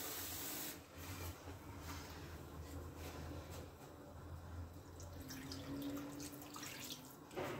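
Water runs steadily from a tap as water is added while Moroccan Doukkali-style couscous with seven vegetables is cooked, a constant close wash with no talk.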